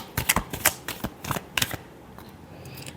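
A deck of tarot cards shuffled in quick riffling bursts for about two seconds, then quiet, close and crisp with no voices.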